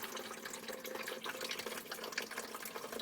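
Hot water pours steadily from a kitchen faucet being flushed after installation, a continuous close splashing rush with no talk.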